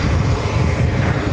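Aircraft engines roar steadily and loudly at JFK airport, a continuous broad rumble from planes queuing and departing near the runway, with no voices over it.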